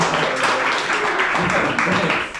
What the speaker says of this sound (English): Do another round of applause.